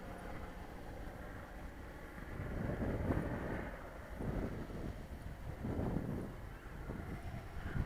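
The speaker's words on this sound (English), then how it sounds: "Wind's getting up a little bit, about 4 or 5 miles an hour." Outdoor wind blowing across an open field at about 4 or 5 miles an hour: steady broadband rushing and buffeting on the microphone, swelling in gusts, with no voices.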